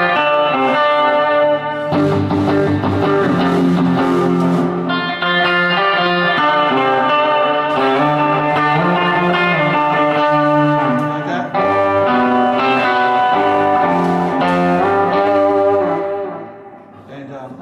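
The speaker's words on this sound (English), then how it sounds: "You hear the echo as well." A surf guitar, with a 12-string-like tone, played through an echo effect at a surf music seminar: loud sustained chords and twangy notes ringing with repeating echoes for the whole stretch, fading out at the end.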